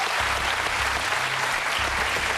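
A studio audience at a francophone TV quiz show applauds in a steady, dense burst that fills the whole stretch, with no talk over it.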